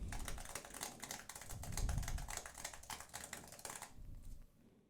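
Fast, furious typing on a computer keyboard, captured through an EV RE20 dynamic microphone, a dense clatter of key clicks for about four seconds before it stops and fades to near silence.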